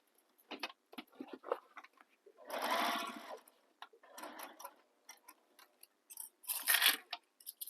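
A sewing machine stitches a quilted handbag in short bursts of rapid stitches separated by pauses, close and moderately loud, with one longer run in the middle.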